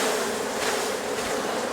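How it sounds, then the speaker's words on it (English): Dense, steady buzzing of many honey bees as they are shaken off a hive frame at an apiary during spring, loud and continuous with a broad hissing texture. "I need to keep the bees down here. Shake them all off."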